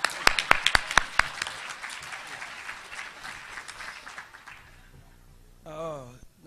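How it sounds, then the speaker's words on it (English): An audience at a mental health and spirituality conference plenary claps, with a few sharp close hand claps at the start and then a softer, fading patter from the room, ending in a brief voice. "Let's have another nice round of applause for the Dr."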